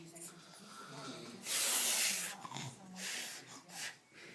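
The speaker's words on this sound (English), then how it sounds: "Snoring." An elderly grandfather snores in a few breathy, hissing bursts, one long rasping breath followed by shorter ones, quiet and close, with faint voices in the background.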